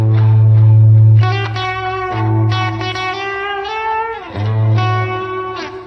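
Electric guitar run through a tape delay effect with wow and flutter turned up to maximum, giving sustained, warbling chords that waver in pitch, with repeating echoes trailing behind each strum. The tone is loud and full, and no voice is heard.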